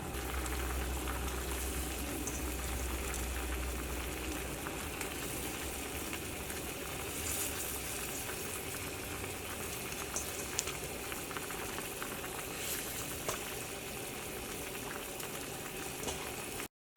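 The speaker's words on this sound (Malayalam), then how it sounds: "ഇപ്പോൾ കറി നന്നായിട്ട് തിളച്ചിട്ടുണ്ട്" A pot of chicken roast curry with coconut milk boils steadily on the stove, a continuous close bubbling and popping that stays even throughout with no voices.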